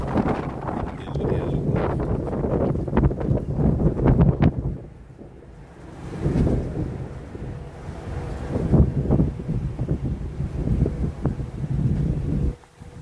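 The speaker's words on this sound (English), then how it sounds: "It's a little windy." Gusty outdoor wind buffets the microphone in a loud, rushing roar that briefly drops to a lull before surging back.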